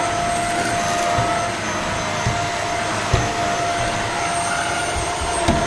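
A purple Shark stick vacuum cleaner runs at a steady, loud whooshing roar with a thin high whine on top, continuous and close throughout, with faint knocks as it is moved.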